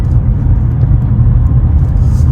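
A car rolling through military family housing on the JBER base in Alaska, heard from inside as a steady, loud low rumble of engine and tire noise with no breaks or talk.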